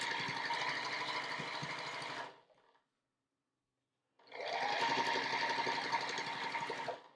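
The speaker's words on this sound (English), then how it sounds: "So we're just sewing across the final seam in this block, 1/4 inch seam." A sewing machine stitches a 1/4 inch quilt seam through fabric, a close, steady mechanical whir in two bursts separated by a short pause of silence, with no voices.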